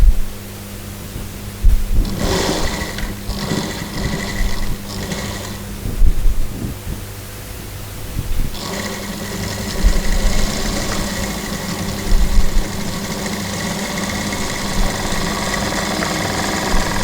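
A sewing machine runs in bursts while stitching a dress hem, with short stop-start runs of whirring followed by a longer steady stretch of close, even mechanical chatter.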